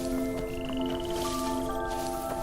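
Frogs call by a pond in the video game Where Winds Meet, a rising chirped trill over steady layered tonal music and ambient hum, moderately loud with no talk.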